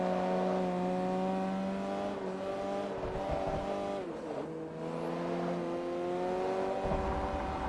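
F-class car in the Forza Motorsport 3 racing game, its engine droning loudly and steadily at high revs with shifting pitch, a brief dip midway, alone without talk.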